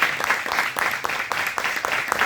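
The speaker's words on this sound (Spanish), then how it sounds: "Un aplauso para la autora" Audience applause at a book presentation for the author of "Antay", a steady wash of many hands clapping with a few sharper claps poking through, moderately loud throughout.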